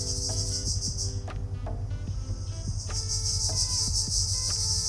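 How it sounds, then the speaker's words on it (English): Night chorus in a Jamaican jungle near a villa, where steady high shrill insect trilling layers with pulsing cricket chirps and repeated ticking calls, all continuous and fairly close, with no talk. "You guys hear all them jungle noises? Like, I cannot tell you exactly what those are. Could be crickets, it could be frogs"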